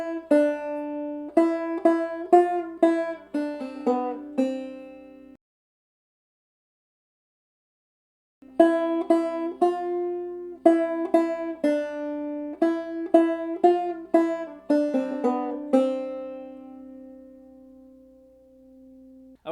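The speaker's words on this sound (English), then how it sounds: "now I'm going to play that melody on the banjo" A clawhammer banjo plays the melody of Old Molly Hare, bright plucked notes in a bouncy rhythm, close and clean, pausing for a few seconds of silence before continuing and ending on a ringing note.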